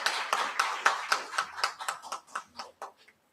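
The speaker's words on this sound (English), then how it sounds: "Please clap." An audience at a valedictory session claps in a brisk burst of applause that thins out into scattered claps and stops.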